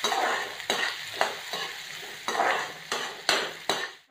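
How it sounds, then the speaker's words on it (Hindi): Onion and green chillies fry in a pan with ginger and garlic for sarson da saag, a loud close sizzle interrupted by repeated rhythmic scrapes and knocks of a spatula stirring, about six strokes, no voices. "अब इसमें प्याज और हरी मिर्ची डालेंगे और इसे पकाएंगे"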